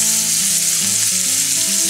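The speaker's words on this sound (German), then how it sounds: "Dazu nehme ich halt meine Zwiebel. Scheibchen in die Pfanne rein." Onion slices fry in a pan for a venison liver and kidney dish, a loud, dense, close sizzle that holds steady throughout, with a tonal melody playing underneath.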